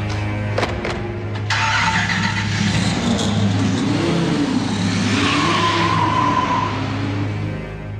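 A car engine cranks with a few sharp clicks, catches and roars, then revs and pulls away, accelerating loudly with rising engine tone and some tire noise.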